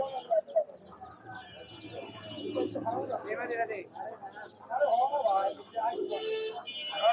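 Khaki-colored pigeons at the Mirpur pigeon market give soft coos and bird calls, mixed with crowd chatter and people talking nearby.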